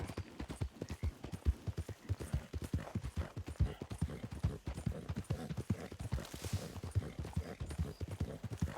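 Horse hooves gallop steadily in the video game Red Dead Redemption 2, a fast continuous clip-clop rhythm at moderate loudness with no talk over it.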